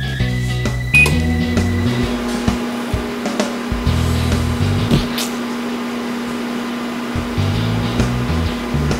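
A microwave oven runs with a continuous low electrical hum and whirring fan noise, joined by scattered clicks and rattles. It sounds close and steady with no voices.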